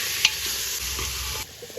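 Mutton with turmeric and salt is stirred in a pressure cooker, a close scraping and sizzling with a brief metallic clink at the start, steady for over a second and then quieter, with no talk.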